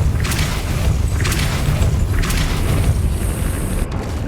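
A Depulso force spell fires in Hogwarts Legacy: a deep booming blast under a steady magical rumble, with a few sharp bright bursts punching through along the way.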